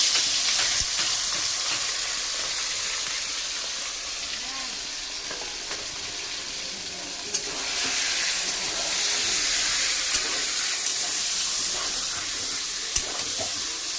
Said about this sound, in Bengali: এবার মাংসটা আমি দিয়ে দেবো।